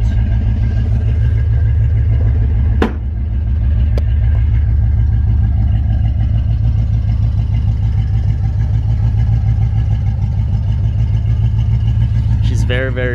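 A 1968 Ford Mustang Fastback engine idles on a cold start with a steady low rumble, loud and close, with a brief sharp knock partway through and a rising whine near the end.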